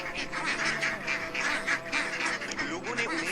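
Large ducks and geese gathered in a flock, honking and quacking loudly and continuously, many overlapping calls close by with no pauses.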